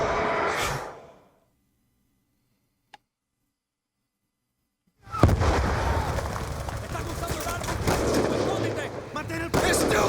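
RPG fire and explosions in the Black Ops 2 video game: a loud blast, a near-silent lull broken by a single sharp tick, then a heavy wall of explosions and gunfire that stays loud to the end.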